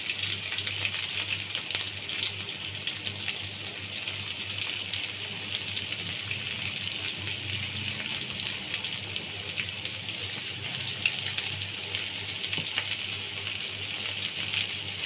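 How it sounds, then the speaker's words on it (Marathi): Capsicum and carrots stir-fry in oil in a hot wok for veg hakka noodles, a steady close sizzle with broad hiss that runs unbroken for about fifteen seconds, with faint scrapes now and then and no talk. "हे चांगलं फ्राय करून घेणार आहोत."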